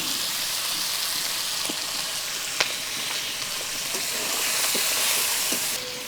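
Green peas stirred into a sizzling pan during village-style cooking of a prawn momo filling: a steady, loud frying hiss with scattered scraping clicks from the stirring utensil, and no voices.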